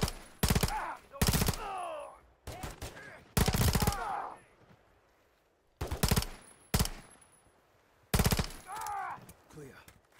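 Bursts of automatic gunfire from the Modern Warfare III campaign, several loud rapid volleys separated by short pauses, with a brief voice between shots.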